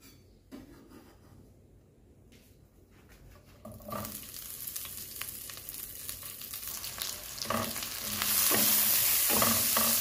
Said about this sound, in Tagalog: Onion, garlic, kamatis. Yan ang una natin igisa.